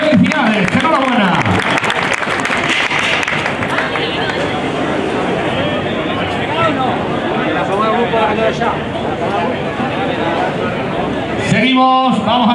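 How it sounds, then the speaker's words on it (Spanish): Loud, sustained applause and cheering from a crowd at a road cycling race podium ceremony in Spain, honouring the Especial Live Fundación Alberto Contador team, steady throughout with a brief break near the end. "un aplauso fuerte a esta potente escuadra"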